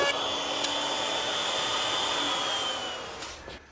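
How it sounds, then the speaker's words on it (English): A router with a 1/4 inch round-over bit rounds the corners of a mahogany entrance door rail, giving a loud, steady, high-pitched whine that fades away at the end. "I'm going to use a 1/4 inch round over bit doing all 4 corners."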